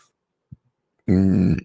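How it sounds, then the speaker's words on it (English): A single deep, voiced burp lasts about half a second, close and fairly loud after a short quiet pause with a faint click, during a casual sports-betting talk show. "Sorry for burping, by the way."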